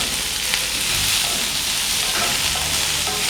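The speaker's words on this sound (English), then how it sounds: "So the first thing that goes into my cast iron skillet is of course our vegetable oil. It's already hot, so I'll be adding on the onions." Onions sizzle in hot vegetable oil in a cast iron skillet with a steady, close, hissing crackle that runs unbroken, with faint stirring scrapes and no talk.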